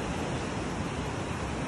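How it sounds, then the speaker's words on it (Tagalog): Strong surf at high tide on a Nasugbu, Batangas beach, a dense continuous roar of breaking waves mixed with wind, loud and steady throughout. "Ang lakas ng alon. High tide pa."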